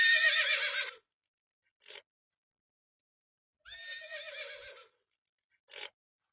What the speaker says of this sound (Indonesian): Nah, itu tadi suara hewan kuda.